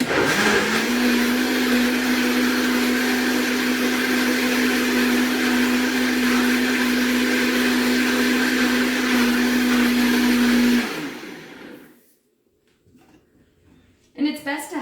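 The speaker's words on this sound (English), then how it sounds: "We're going to put it in the blender. It shouldn't take too long to blend," A blender whirs steadily at high speed for about eleven seconds while blending vegan eggnog with cloves, the loud even motor drone stopping abruptly, followed by near silence and a faint sound at the end.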